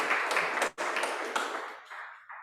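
An audience at a student government induction ceremony claps for a student leader. The applause is close and full, then thins and trails off, with a few scattered claps at the end.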